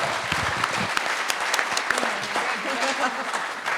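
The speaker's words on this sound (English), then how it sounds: "Give me a round of applause for our candidates." Audience applause for mayoral candidates at a Salt Lake City animal rights forum during VegFest 2019: a dense, steady roar of many hands clapping that fills the whole stretch, with scattered voices mixed in.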